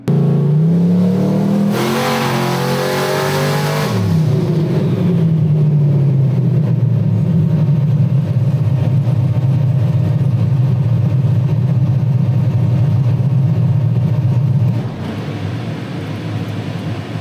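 A turbocharged small block Ford V8 on a dyno with Holley EFI revs hard in a short pull, the engine note sweeping up loudly then settling into a sustained roar before dropping off near the end.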